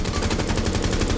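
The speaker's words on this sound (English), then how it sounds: "you should be shooting in bursts in and out of cover, not the entire clip" Rapid automatic gunfire rattles loud and close in Rainbow Six Siege, a dense run of evenly spaced shots across the whole moment with no talk.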